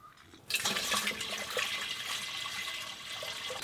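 Water pours out in a steady, continuous splashing rush that starts abruptly and stays fairly loud and close, inside a heated tent during winter solo camping in Canada.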